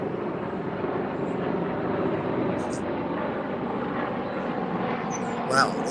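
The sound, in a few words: helicopter flying overhead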